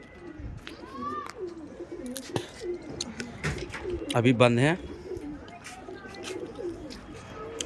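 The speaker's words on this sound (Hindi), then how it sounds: "ये हैंगे वो उड़ने वाले कबूतर जो बाजी में उड़े थे" Racing pigeons that flew in a contest coo from their loft, with scattered soft calls and one stronger rolling coo midway, while someone speaks briefly nearby.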